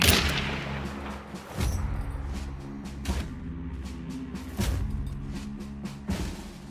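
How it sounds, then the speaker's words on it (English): Gunfire from the video game Hunt: Showdown rings out in several sharp, fairly quiet shots spaced a second or so apart, each with a booming tail over a low droning game background. "Gunshots, yet again, filled the area."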